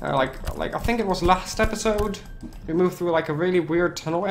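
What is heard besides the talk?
No distinct noise like a dog, phone or traffic.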